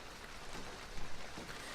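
Steady rain hisses from The Fruit of Grisaia visual novel, a continuous even wash of falling water with no talking.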